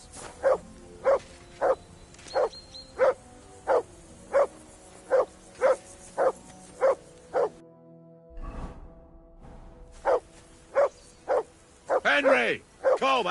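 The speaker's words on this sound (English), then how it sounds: "that barking's driving me nuts" A dog barks in a steady, evenly spaced run of loud single barks close by, then pauses amid a brief scuffle before barking resumes, with a short whining yelp near the end.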